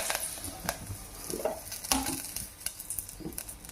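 Curry leaves dropped into a spoonful of hot oil in a pan, crackling and sizzling in sharp little pops over a soft frying hiss, fairly quiet, with some stirring scrapes.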